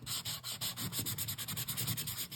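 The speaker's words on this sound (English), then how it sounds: "we are doing a lot of sanding with this two-tone cardstock" Rapid rhythmic scratching of sandpaper rubbed back and forth over thin two-tone cardstock, steady and close, with no talking.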